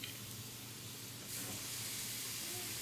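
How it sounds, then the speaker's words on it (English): Thick-cut pork chops sizzle in a hot pan with a steady, close hiss that grows louder partway through as more meat hits the heat. No one speaks over it. "You might hear a little cooking here."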